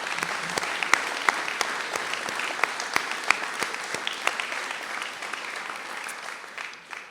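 An audience at a mayor's New Year ceremony applauds steadily, giving a dense patter of many hands clapping at even volume that fades slightly toward the end.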